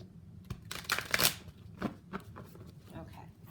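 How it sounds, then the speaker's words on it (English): A deck of cards is shuffled close up in a quiet room, with a couple of crisp riffling bursts followed by softer handling clicks. "one more shuffle."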